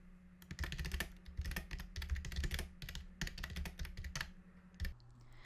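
Rapid keystrokes on a computer keyboard come in quick uneven bursts with brief pauses between them, close and clear over a faint steady hum.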